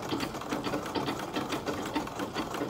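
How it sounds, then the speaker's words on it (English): A sewing machine runs steadily, stitching fabric for a headband, its needle moving in a fast, even mechanical rhythm close by, with no voices. "Now I'm going to sew it from up to down using the sewing machine."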